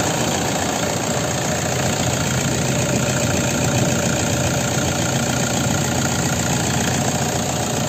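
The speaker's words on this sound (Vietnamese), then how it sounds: "đây là toàn bộ tiếng động cơ đang hoạt động khá là êm" A 2011 Toyota Hilux SX diesel engine with a manual gearbox idles smoothly and steadily close by, a constant even rumble with a light knocking clatter and no talking.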